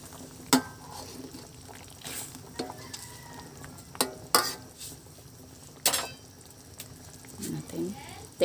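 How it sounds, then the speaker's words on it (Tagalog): Nilagang manok, a Filipino chicken soup, being stirred in a pot, with a ladle clinking against the rim in a few sharp knocks over a quiet simmer. "Tapos ay haluin."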